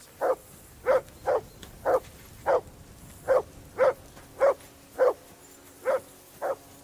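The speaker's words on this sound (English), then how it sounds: "Jesus, Henry, that barking's driving me nuts." A dog in the video game Kingdom Come Deliverance 2 barks about eleven times in a steady, evenly spaced rhythm, each bark short and clear at moderate distance, over a quiet background with no talking.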